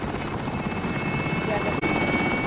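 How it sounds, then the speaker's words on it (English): A helicopter in the video game Call of Duty Modern Warfare, Plunder mode, makes a loud, steady rotor drone that runs throughout with one brief dropout near the end. "Helicopters exiting the AO."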